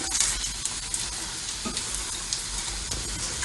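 Cheese-filled bread roll frying in a pan on an electric stove, a steady dense sizzle with faint stirring scrapes, close and continuous with no talking.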